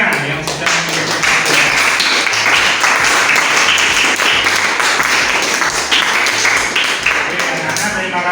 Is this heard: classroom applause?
yes